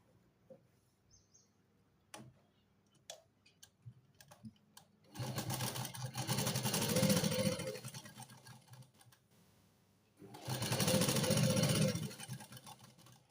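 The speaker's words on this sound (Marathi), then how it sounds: "मी इथे आता हळूहळू शिलाई द्यायला सुरुवात करणार" A sewing machine stitches a kurti in two sustained whirring runs, loud and close, separated by quiet pauses with faint scattered clicks and handling sounds.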